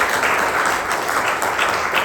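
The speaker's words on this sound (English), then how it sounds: "give them a round of applause" An audience at a speech club evaluation session breaks into a round of applause, a dense, steady clapping that fills the whole moment without letup.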